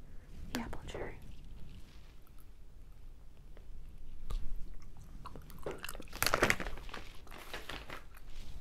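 Apple cherry gummy candy being chewed close to the microphone in a whispered candy-shop roleplay, with soft, irregular wet chews and a few sharper bites alongside quiet whispering.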